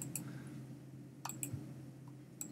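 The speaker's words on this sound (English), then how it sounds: "So I'm clicking as I go because when you click, it actually locks that lasso in place." Computer mouse buttons click while a Photoshop lasso selection is drawn: several sharp, quiet clicks, some in quick pairs, spaced irregularly over a faint steady room hum, with no talking.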